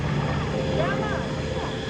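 A North American B-25 Mitchell bomber with twin 14-cylinder two-row air-cooled radial Cyclone piston engines of 1,700 horsepower flies at an air show at NAS Patuxent River, a steady loud droning roar with a voice talking over it.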